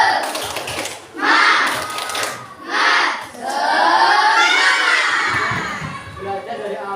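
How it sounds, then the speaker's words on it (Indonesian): A class of sixth-grade primary school children does a rhythmic group spirit clap, loud chanted shouts alternating with bursts of clapping in a lively, close, crowded room. "Tepuk semangat."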